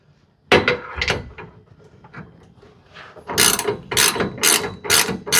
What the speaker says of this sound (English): Lock down my nylon locking nut.